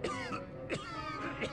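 Coughing from a character in the video game Bravely Second, three harsh throat-clearing coughs spaced roughly evenly, each with a raspy voiced tail, close and moderately loud.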